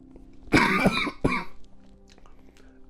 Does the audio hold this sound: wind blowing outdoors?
no